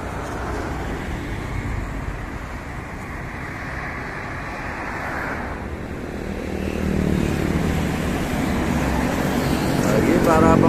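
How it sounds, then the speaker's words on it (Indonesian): Dense traffic of private four-wheel cars and travel vans on the Palimanan-Kanci toll road, a continuous broadband roar that swells louder toward the end. "Ini kendaraan di dalam tol didominasi roda 4 pribadi sama travel sepertinya."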